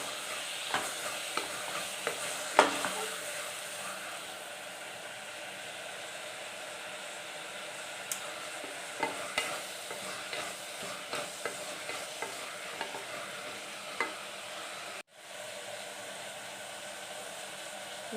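Mint and coriander leaves with spices frying in a pan for tomato bath, a soft steady sizzle with scattered stirring clicks and scrapes, fairly quiet and close, no voices.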